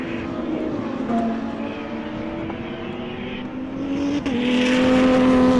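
Extreme Supercars race past at a circuit, their engines holding a loud sustained drone that rises in pitch as one car accelerates closer, with the roar swelling toward the end.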